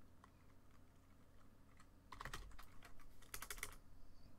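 Computer keyboard keys tapped in bursts, sparse at first then rapid clusters of clicks, close and fairly quiet with no talking.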